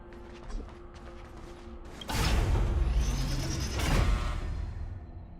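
A heavy mechanical gate in the Honkai Star Rail video game grinds and creaks with ratcheting, whooshing movement, loud and close, rising after a quieter opening with no talk.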